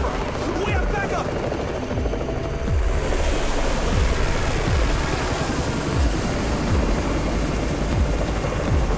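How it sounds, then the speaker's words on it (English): A helicopter passes overhead in the video game Undawn, its rotor thudding in a fast, rhythmic beat that swells louder midway, with voices speaking over it. "It's the Raven's chopper! We have backup!"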